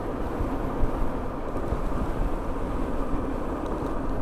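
An EAHORA M1P electric chopper scooter, a Harley-style model good for about 40 mph, runs at full throttle on speed 3 with a steady loud rumble of motor and rushing wind that holds throughout.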